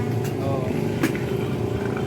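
Motorcycles ridden by young people celebrating New Year in the Philippines rumble steadily nearby, a continuous low engine drone with a brief louder swell midway, under faint voices.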